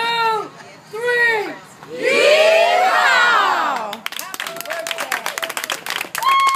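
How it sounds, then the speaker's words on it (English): At a sweet-16 birthday party, a crowd shouts a loud drawn-out yee-haw with whoops, then breaks into a thundering round of clapping and cheers. "we're going to give her a great big yee-haw, followed by another thundering round of applause"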